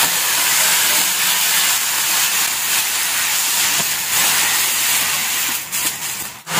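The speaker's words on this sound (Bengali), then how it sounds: "এদিকে সর্ষের তেলে কালো জিরে ফোড়ন দিয়ে লাউগুলো দিয়ে দিচ্ছি।" Bottle gourd pieces go into hot mustard oil tempered with black cumin, raising a loud, steady hissing sizzle that holds throughout and dips briefly near the end.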